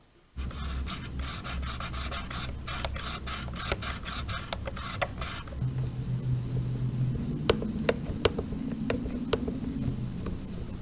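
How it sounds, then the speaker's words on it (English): Heavy throttle stick being worked back and forth on an old FPV radio controller, giving a close, steady scratchy rubbing with clusters of sharp ticks and clicks, no voices. "here the throttle is super heavy and you can even record a little ASMR"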